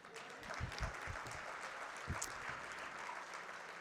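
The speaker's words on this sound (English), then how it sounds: "You can clap for that." Scattered audience applause at a CAIR banquet where Rep. Ilhan Omar speaks, a modest spread of claps that holds steady at moderate level for a few seconds in a large room.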